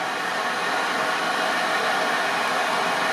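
Heat gun shrinking plastic heat-shrink tubing over kayak wiring, giving a steady, close, continuous blowing hiss with no talk.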